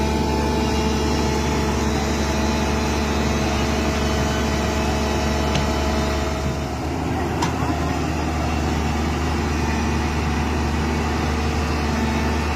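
A JCB excavator's diesel engine drones steadily at idle near water while a big boat is launched from a dock, a constant low rumble throughout with faint voices in the background.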